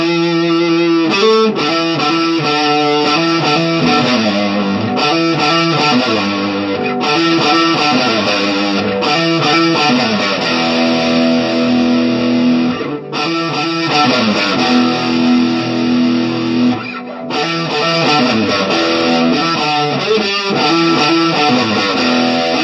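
Electric guitar played through distortion in a melody lesson, loud and sustained with shifting chords and picked eighth-note patterns and a few brief breaks.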